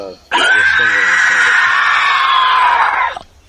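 In the Roblox game Dinosaur Simulator, a dinosaur skin lets out a loud scream-like call. The call is a single sustained, shrill and slightly wavering cry lasting about three seconds, with a brief lower sound just before it.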